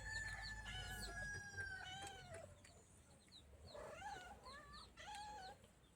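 Yard chickens cluck and crow while a cat yowls nearby, with overlapping calls rising and falling across a few seconds, fairly close and clear with no talk.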